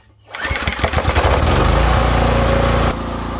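A small engine cranks and starts, then runs at a steady 3000 RPM, loud and close, driving an alternator generator that charges at about 40 amps and loads roughly 2200 watts.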